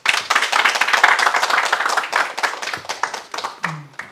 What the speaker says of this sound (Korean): 다시 한번 이용범 연구위원님께 감사의 박수 부탁드리겠습니다